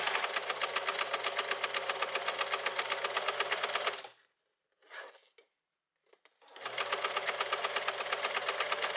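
A sewing machine stitches a 1 cm seam on a doll's jacket in rapid, even bursts, pausing briefly with a few faint handling sounds before the steady close stitching resumes.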